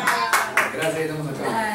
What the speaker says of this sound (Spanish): Un aplauso para mi mamita.